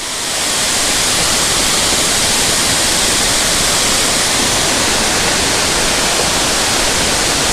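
Areekal waterfall rushing with a loud, dense, continuous roar of falling water, steady and broadband throughout with nothing else audible.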